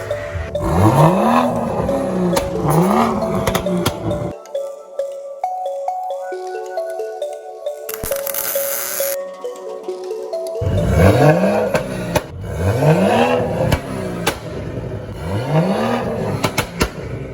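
A 2020 Toyota Supra with a muffler delete revs hard and loud close by, with repeated rising and falling exhaust sweeps and a quieter idle-like stretch in the middle.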